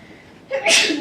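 A person sneezes once, up close and loud, a brief inhaled build-up followed by a sharp sibilant burst, set in a lecture or classroom.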